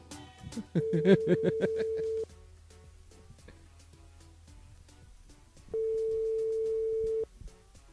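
Ringback tone of an outgoing telephone call placed on a live radio show, two long steady electronic tone bursts separated by a pause, with a burst of laughter over the first ring.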